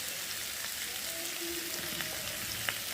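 Spices fry in a pan for a prawn dish, giving a steady close sizzle with soft scattered crackles, no talking.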